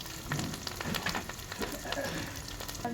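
Garlic paste fries in a pan with a steady, dense sizzle and crackle, close and continuous throughout, with no voices over it.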